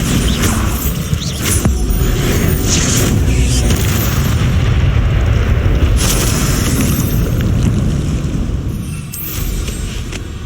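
Bombarda blasting spell in Hogwarts Legacy, loud booming explosions with rumbling debris and crashing rock, several heavy bursts overlapping in a continuous, close, thunderous barrage.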